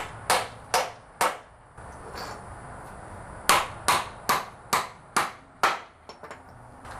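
Nails hammered into wood blocks while pre-building Ts and corners: sharp, loud, evenly spaced strikes, three in a quick run, a pause, then a faster series of about eight blows, with no talking.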